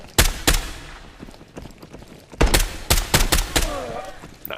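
Gunfire in the video game Contractors, with several sharp, loud shots in uneven bursts close by, separated by brief gaps, and a player speaking faintly between them.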